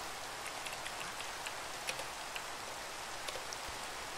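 Rain falls in Minecraft as a steady, soft hiss with faint scattered drop patters, quiet and even throughout, with no voices.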